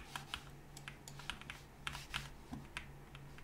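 Close, quiet typing on a KZZI K68 Pro mechanical keyboard, with irregular, crisp key clicks running steadily and no talk over them.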